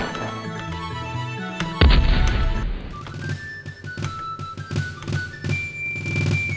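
Heavy artillery fire in the strategy video game Colonization, a sudden deep booming blast followed by a decaying rumble, with lighter game thuds and tones before and after.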